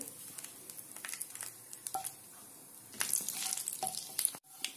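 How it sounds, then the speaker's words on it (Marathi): Cumin, mustard seeds and sesame tempering crackling in hot oil for a Maharashtrian bhogi vegetable dish: soft, scattered pops and sizzle nearby, fairly quiet, with a few brighter crackles. "फोडणी तडतडली आपली,"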